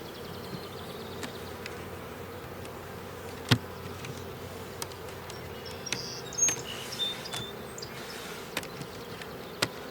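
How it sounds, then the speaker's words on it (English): Honey bees buzz steadily around a hive box in early July, a dense even hum with individual bees passing close now and then and a few faint knocks, no voices. "Now the bees got plenty of time to work this."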